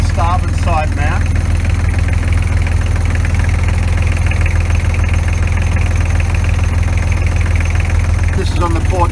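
Inboard engine of a sailing boat idling and shaking on its mounts, a loud constant low throb with rattling vibration throughout; a voice speaks briefly at the start and end.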